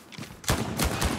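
Gunfire in a hardcore first-person shooter video game: a few sharp, loud shots cracking in close succession after a quiet moment, with brief reverberant tails and no talking.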